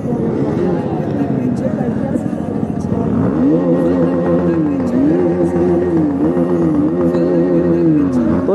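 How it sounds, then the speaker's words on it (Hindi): A KTM motorcycle engine idles roughly, then revs up and down in repeated rising and falling surges, loud and close, with some talk over it. "भाई भाई भाई हम भी करें थोड़ा रेव,"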